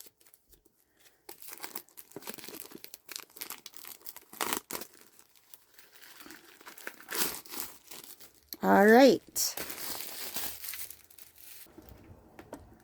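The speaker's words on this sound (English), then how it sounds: "Just give me a second to get this paper off." Paper wrapping crinkles and tears near the mic in scattered bursts as it is pulled off a watercolor journal, ending in one loud rip; a voice briefly speaks.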